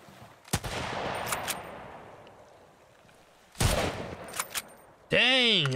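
Bursts of gunfire in the survival video game Sunkenland, with sharp loud shots in clusters separated by brief gaps and a wavering electronic tone at the end.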